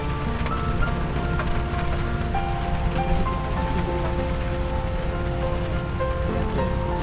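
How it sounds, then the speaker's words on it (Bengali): Steady rain pours without a break at Kaptai Lake in Rangamati, a dense, even hiss of drops on surfaces that fills the scene with no speech over it. "এখান থেকে বৃষ্টি পড়া দেখছিলাম আর উপভোগ করছিলাম"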